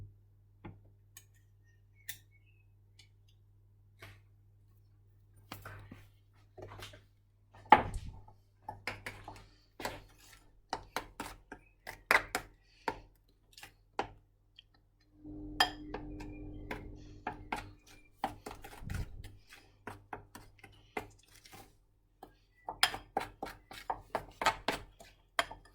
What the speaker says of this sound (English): Just start mixing it in now.